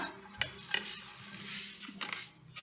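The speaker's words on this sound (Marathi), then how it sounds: "जरा गरम होईपर्यंत असं आपल्याला भाजून घ्यायचं आहे" Spices being dry roasted in a pan for a chaat masala, with a few clear scraping strokes of a spoon against the metal and a soft, steady rustle in between, close and quiet.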